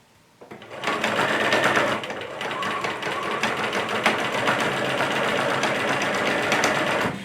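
A Simplicity 8532 sewing machine stitches steadily around a curve, its fast, even motor whir and needle chatter running continuously and close for several seconds after a brief quiet start.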